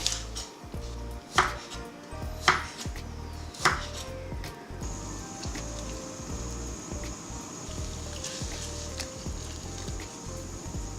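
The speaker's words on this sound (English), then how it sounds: "Cut Chinese broccoli into a bite size for noodle soup." A knife chops Chinese broccoli into bite-size pieces on a cutting board while noodle soup is being made, with a few sharp, separate chops early on and then quieter kitchen handling and a faint steady hum.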